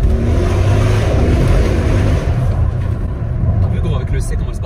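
An Audi RSQ8 with over 600 hp revs loudly, its deep engine roar echoing off the surroundings close up and then easing off, with voices talking over it.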